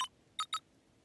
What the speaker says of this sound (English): entered the letters into the keypad